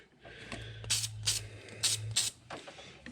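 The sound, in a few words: spraying battery terminal sealer on battery cable terminals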